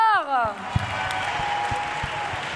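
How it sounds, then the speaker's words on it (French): Audience applause for the players at a live Just Dance French Cup 2019 competition event, a steady wash of clapping lasting a couple of seconds after an announcer's voice fades, with a few sharper claps poking through. "Applaudissements pour nos joueurs."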